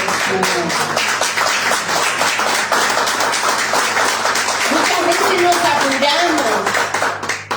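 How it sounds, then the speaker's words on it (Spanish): A church congregation claps through a service, a dense steady patter that runs the whole stretch beneath a woman preacher's voice and some music. "Dale un fuerte aplauso"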